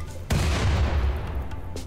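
An explosion in the RimWorld video game: a sudden deep boom that hits at once and rumbles away over the next second and a half, heard alone without talk.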